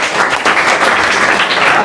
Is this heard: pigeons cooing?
no